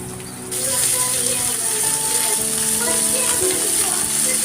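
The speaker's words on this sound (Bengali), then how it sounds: "যে আমার পেঁয়াজগুলো ভাজা ভাজা হয়ে আসবে, আমি এর মধ্যে এখন শাকগুলি দিয়ে দেব।" Haicha greens dropped onto frying onions set off a loud, dense sizzle that jumps up suddenly and stays steady, with rattling, ratchet-like crackles of the leaves in hot oil.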